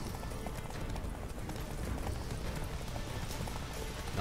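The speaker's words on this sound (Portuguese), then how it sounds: "Carpeado é o cavalo mais rápido dessas bandas." Hooves pound dense and fast as horses race in The Witcher 3: Wild Hunt, a continuous close clatter of galloping with no clear gaps and some faint background noise.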